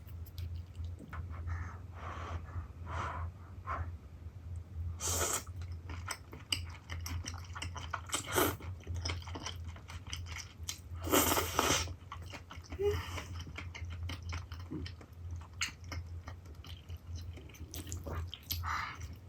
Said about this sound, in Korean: 분모자 너무 먹고 싶었으니까 분모자 먼저.